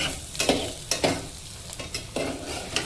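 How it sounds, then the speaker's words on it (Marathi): Dry fruits frying in a pan for vermicelli kheer, a soft sizzle punctuated by a rhythmic series of spatula scrapes and stirs, close and clear with no voices. "हे चांगलं 2-3 मिनटासाठी आपल्याला हे फ्राय करायचं आहे."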